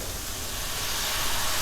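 White wine poured into a very hot pan with oyster mushrooms and rosemary sizzles and hisses in a steady, loud, broadband burst throughout, close up with no talking.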